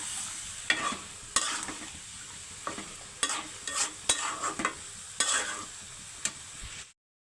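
A spatula stirs food cooking in a pan with green chillies, giving close, irregular scrapes and taps over a soft sizzle before stopping abruptly.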